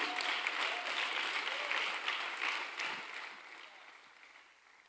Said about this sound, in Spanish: Dele fuerte el aplauso que es para Dios.